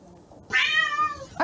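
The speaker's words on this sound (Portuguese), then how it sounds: "Vocês ouviram o miado, gente?" A cat meows once, a loud, clear drawn-out cry lasting nearly a second close to the listener, followed by the start of a second call, with a faint murmur of background noise before it.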